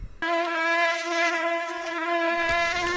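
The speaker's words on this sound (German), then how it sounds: "Ja, das heutige Video geht um Schnaken." A mosquito buzzing right by the ear on an evening, a loud, steady high-pitched whine that starts abruptly and holds for several seconds with slight wavering.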